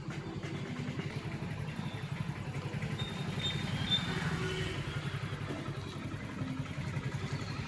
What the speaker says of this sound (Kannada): ಬೈಕ್ ರ್ಯಾಲಿ ಪಟ್ಟಣದ ಪ್ರಮುಖ ಬೀದಿಯಲ್ಲಿ ಮೆರವಣಿಗೆ ನಡೆಸಿ ಬಂದ್ ಆಚರಣೆ ಮಾಡಲಾಯಿತು